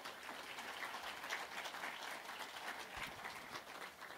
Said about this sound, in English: So again, round of applause.